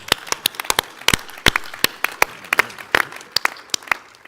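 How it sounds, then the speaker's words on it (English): Scattered applause from the crowd at a SHARE St. Louis general session: a loose run of sharp individual claps from a modest number of people, fairly close and irregular, with no voices. "You guys can applaud."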